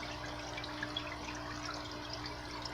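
Water from an aquarium filter in a 55-gallon flowerhorn tank flows and splashes continuously, a quiet, steady trickling wash with no voices.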